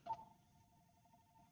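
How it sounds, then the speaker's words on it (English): A faint retro 1980s-style phone alert, a quick electronic beep followed by a thin sustained tone that lingers quietly. "1980s phone alert?"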